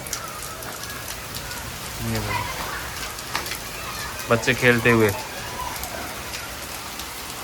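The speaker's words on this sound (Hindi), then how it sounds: "अच्छी खासी बारिश हो रही है आज तो" Rain falls steadily in Ganganagar, a constant soft hiss of drops on surfaces, with someone speaking over it.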